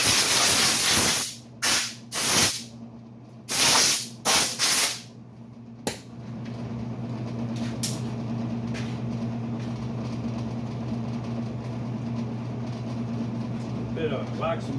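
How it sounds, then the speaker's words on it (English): Wax and grease remover sprays onto a car panel in a paint shop in several short, sharp hissing bursts, then a steady low hum of running fans carries on alone. "Bit of wax and grease remover."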